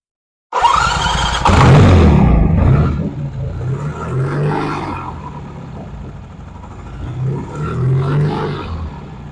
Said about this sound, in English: I'm going to start the bike now. Yep. And rev it.